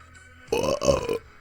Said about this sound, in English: I was burping because I've been drinking beer